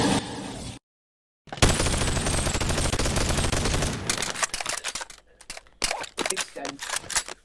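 Rapid gunfire in the VR game Boneworks, a long dense stream of shots followed by a choppier run of separate bangs, loud and close after a brief silent gap.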